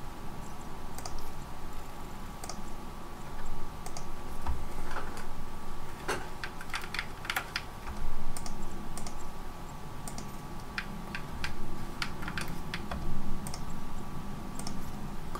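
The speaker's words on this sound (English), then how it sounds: "Classic keyboard only." Keys clicking on a computer keyboard while playing Elite Dangerous, irregular bursts of close taps over a steady background hum, with no talking.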